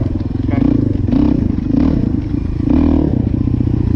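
A dirt bike engine, from a head-to-head of a Honda XR400R and a Suzuki DR350, turning over and revving in loud, uneven bursts, with clattering mechanical noise and a few throttle swells through the clip.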